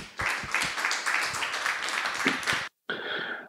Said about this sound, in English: So a round of applause for Nikolay.